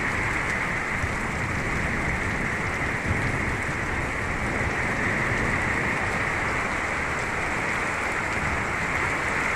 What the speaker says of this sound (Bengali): মুষলধারে বৃষ্টি শুরু হয়ে গেল।